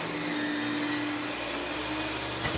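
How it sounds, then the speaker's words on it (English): A shop vacuum runs steadily in a woodworking shop during end-grain cutting board work, a loud continuous broadband whir with a faint hum, holding constant throughout with no talk. "Basically, I'm just using a shop vac here."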